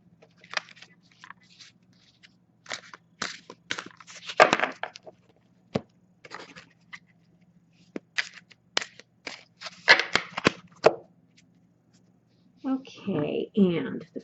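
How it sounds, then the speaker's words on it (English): Tarot card decks are shuffled by hand in quick, irregular bursts of crisp riffling and slapping, with short pauses between. A voice murmurs now and then underneath. "as I shuffle the decks"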